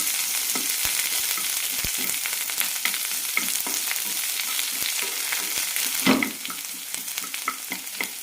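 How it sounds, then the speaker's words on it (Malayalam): A medium onion sautéing in a pan with curry leaves, a steady close sizzle broken by regular ticks of stirring and one louder scrape partway through. "ട്രാൻസ്പാരൻ്റ് ആകുന്ന വരെ വഴറ്റിയെടുക്കാം"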